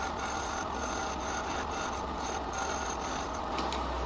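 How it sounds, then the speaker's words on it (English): A small parting tool cuts into wood spinning on a lathe for a miniature hollow form, producing a steady continuous rasping scrape with the lathe's hum beneath, close and even throughout. "The smaller parting tool so we can clear out a little more of that material"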